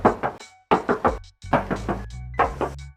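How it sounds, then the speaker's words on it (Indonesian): Knuckles rap on the metal side body panel of a used Honda CR-V in short, close, sharp bursts of three or four knocks, with brief pauses between each group. "Bagian samping sekarang coba aku tes ketok"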